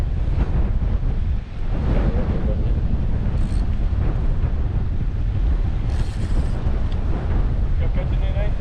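Strong wind gusts by the water, roaring and buffeting the microphone in a constant low rumble, with surf washing underneath throughout.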